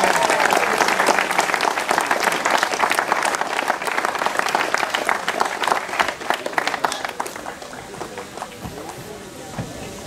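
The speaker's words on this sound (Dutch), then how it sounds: "We laten een overdovend applaus horen voor de man uit de residentie Den Haag" Audience applause at the podium ceremony after the closing time trial of the Internationale 8 van Bladel cycling race, honouring the national time trial champion and overall winner; steady, dense clapping from a crowd that fades slightly toward the end.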